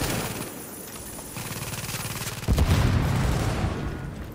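Gunfire aimed at a tank in the shooter game The Division: rapid automatic shots rattle steadily, then a louder, denser burst of fire and booms takes over midway, close and continuous.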